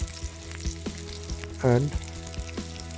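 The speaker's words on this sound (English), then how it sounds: "So similarly we'll do the frying for this 3 parwal also." Pointed gourd (parwal) fries in mustard oil with a steady, close sizzle, broken by a few clicks and taps of a utensil and one brief spoken word.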